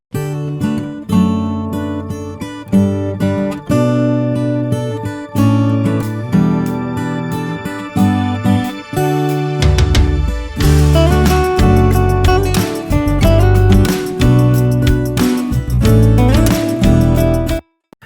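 A synth pad intro in a Cubase mix plays together with an acoustic guitar track: sustained chords swell in repeated phrases, then a fuller section with plucked strums and percussive hits enters around the midpoint, loud with no voices.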